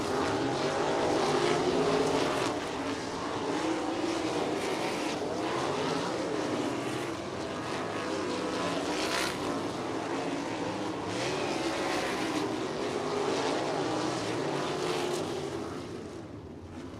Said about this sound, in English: Sprint car is going to come around to hot lap their session number